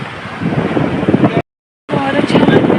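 Electric fan on a rooftop terrace blowing air across the microphone, a loud steady rushing roar that cuts out briefly to silence midway and then resumes.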